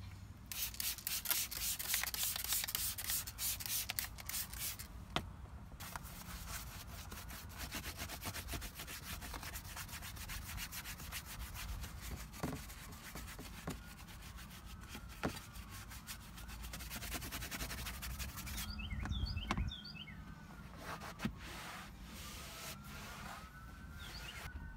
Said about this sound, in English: I'm going to use this goat brush to kind of loosen up the dirt